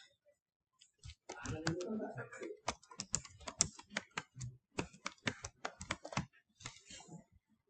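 Someone types text on a computer keyboard at close range, producing a quick run of irregular key clicks with brief pauses and a softer rustle near the start.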